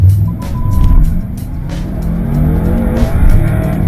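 A BMW M5 with a 560 hp V8 accelerating hard in sport mode with stability control off, its loud engine roar rising steadily and close, with a brief tire squeal, no voices.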